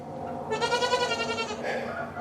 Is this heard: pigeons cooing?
no